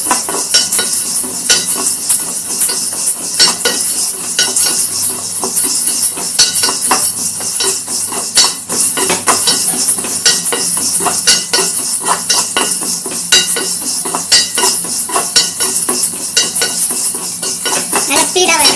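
Black sesame seeds roasting in a hot pan while a spoon stirs them constantly, producing loud, close, rapid metallic scraping and clinking with a light crackle underneath, continuing without pause.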